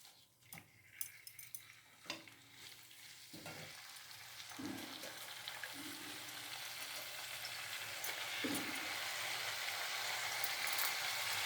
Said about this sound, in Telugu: ఈ ఆయిల్లో మనము గోంగూర వేయించుకుందాము